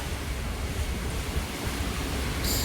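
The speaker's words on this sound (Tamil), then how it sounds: "அங்கே பாருங்க, தெரியுதா காற்று எப்படி அடிக்குதுன்னு?" Strong coastal wind in the Seychelles roars as a dense, steady rush of noise buffeting the microphone, with surf-like churning underneath and no voices.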